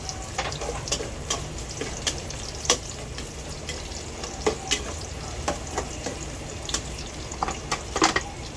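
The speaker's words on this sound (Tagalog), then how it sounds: "Yan, magbisa na tayo ng bawang. Hmm, bango. Lagyan na rin natin ang sibuyas natin." Garlic and then onion sautéing in a pan for sopas, a steady close sizzle with scattered sharp crackles and pops throughout, no voices.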